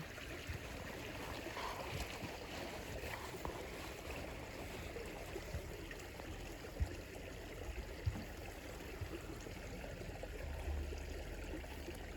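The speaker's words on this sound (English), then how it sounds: "I hope you can hear the beautiful water here also." Faint, steady trickle of water from a nearby stream runs alone in a quiet outdoor setting, with a couple of soft knocks.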